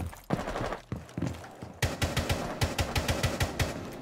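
Rapid gunfire rips through a wall in Rainbow Six Siege, starting as scattered single shots and then building into a steady, loud burst of evenly spaced rounds.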